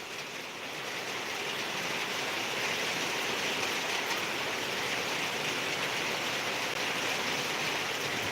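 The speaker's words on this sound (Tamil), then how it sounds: "நல்ல மழை பெஞ்சிட்ருக்குங்க" Heavy rain pours steadily at night over the Tirukkovilur bus stand, a dense, even hiss that holds at the same level throughout with no voices.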